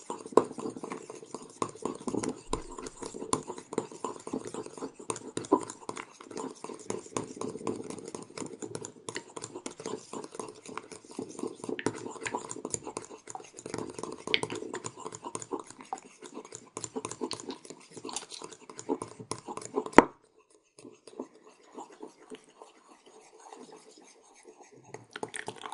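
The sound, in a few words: whisking cocoa butter conditioner emulsion in a bowl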